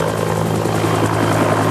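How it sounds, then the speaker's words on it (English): Government helicopter arriving at a hillside soccer field above Medellín, its rotor and engine drone loud, close and steady throughout without pause. "a government helicopter came to arrest him"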